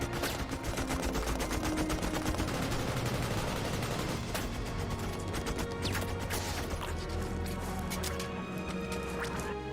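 Dense, continuous gunfire and explosive crashes fill the whole stretch loudly, with rapid overlapping bursts like machine-gun fire in a battle scene, no voices heard.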